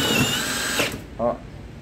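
A compact screw gun running at high speed drives a screw into sheet metal roofing, a short loud whirring burst fading out, followed by a brief second buzz; someone talks around it.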